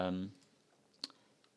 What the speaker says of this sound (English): you can just double click on it